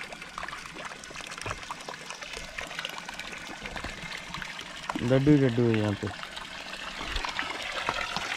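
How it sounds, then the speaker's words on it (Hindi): Water flows and splashes steadily from a cold mountain stream near Joshimath, a continuous close rushing sound while someone talks over it. "तो यहाँ पानी आ रहा है"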